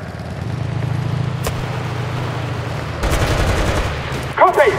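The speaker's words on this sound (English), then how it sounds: "Calling in artillery!" Artillery fire in the video game Enlisted: a sharp shot, then from midway a dense, loud barrage of rapid firing and blasts, with a brief whistling sound near the end.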